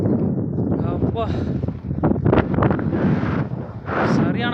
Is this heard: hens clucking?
no